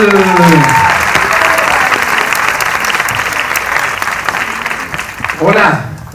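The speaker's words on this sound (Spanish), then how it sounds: "¡Un aplauso para él!" A film festival opening-night audience applauds its creator, loud sustained clapping that gradually thins out, with a voice cutting in near the end.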